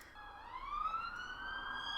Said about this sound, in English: And now here comes a siren.